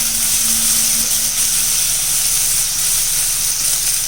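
Sliced onions frying with salt for chicken fried rice, a loud, constant steamy hiss filling the whole stretch, with no talking over it.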